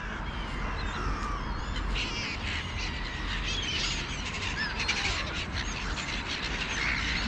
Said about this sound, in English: I think our crows are already waiting.